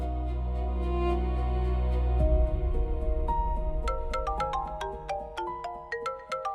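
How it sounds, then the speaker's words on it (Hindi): A phone ringtone plays a melodic electronic tune of rising, repeating notes, steady and fairly loud with no voices over it. "मैं फोन सुनकर आता हूं।"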